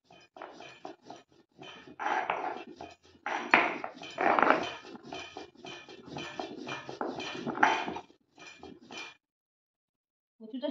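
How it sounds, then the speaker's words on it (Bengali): Taro is ground with chili and mustard on a grinding stone: uneven bursts of knocking, scraping stone-on-stone strokes, near and moderately loud, pausing briefly before a final short scrape. "লঙ্কা দিয়ে আর সর্ষে দিয়ে বেটে নিচ্ছি।"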